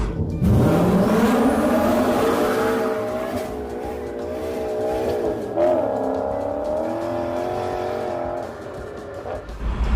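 A Honda Civic EJ9 engine revs hard on high cam, a loud sustained rising engine note that holds near the top of the RPM range with brief dips and climbs, close and continuous for the whole span.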